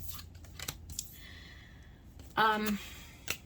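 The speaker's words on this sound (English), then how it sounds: "let's get these cards put back" Tarot cards gathered up and shuffled back into a deck, with soft rustles and brief papery riffles, one longer slide in the middle, quiet and close.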